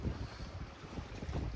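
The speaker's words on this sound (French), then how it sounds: "C'est compliqué parce que là on a du vent" Wind gusting around a sailboat off the Greek coast near Spetses, a steady low roar with buffeting rumbles and a faint wash of waves, loud and continuous with no voices.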